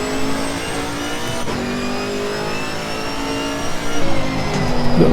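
A Chevrolet Camaro GT4 racing at Bathurst in Assetto Corsa Competizione, its engine droning steadily through a gear, pitch climbing gradually, then revving harder near the end; loud and continuous with no talk.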